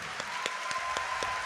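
Faint audience clapping at a live music show with piano, with distinct individual claps landing in a quick, regular rhythm over a low murmur.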